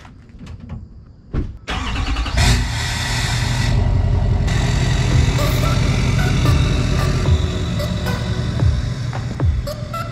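A Porsche 996 Turbo engine fires up after a brief quiet moment, then settles into a loud, steady, throbbing run close by, with no one talking.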